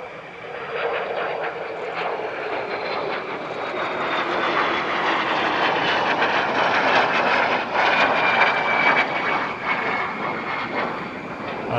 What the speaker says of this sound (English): And now here's another, the DH-100 Vampire FB-6.